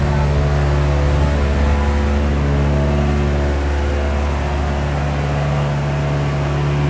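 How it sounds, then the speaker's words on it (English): A Toyota GR010 Hybrid hypercar sits idling in the pit lane at Sebring, its engine giving a loud, steady drone with strong low harmonics that holds unbroken and fairly close the whole time. "The Toyota Hypercar, the GR010 hybrid, car number 8 onto its marks, car 7 still in the garage."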